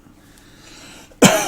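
A single sharp throat-clearing burst near the end, loud and close, following a stretch of quiet room noise.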